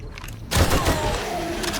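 Gunfire in the zombie survival game 7 Days to Die: a sudden loud burst of shots that starts partway in and continues as a dense, sustained rattle until the end.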